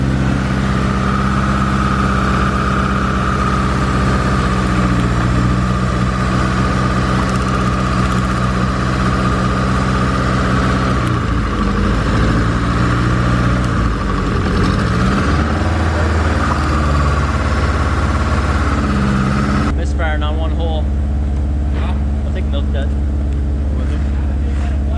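A Turbo D series engine with a failed head gasket idles and misfires, a steady loud rumble running throughout with an uneven beat, people talking over it.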